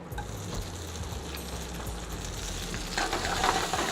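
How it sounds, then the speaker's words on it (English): Cherry tomatoes sautéing with lobster in garlic-flavored oil give a steady, close sizzle and crackle, growing slightly louder and brighter toward the end, with no talking. "Let them saute with the lobster"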